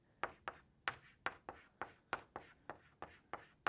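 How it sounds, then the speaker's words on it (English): Pen strokes scratch rhythmically while writing out calculus by hand, about a dozen evenly spaced strokes, close and quiet. "let's just write it down so we can see it easily"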